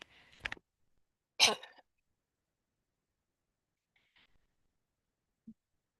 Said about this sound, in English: I had to just cough there for a second.